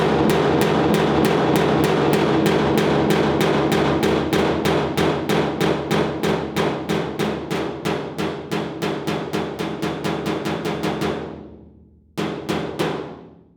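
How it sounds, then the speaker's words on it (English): A hammer strikes a bare metal car body panel during dent repair with steady, rapid, loud blows that slow slightly and pause before a final few hits. "we're just hammering bare metal now"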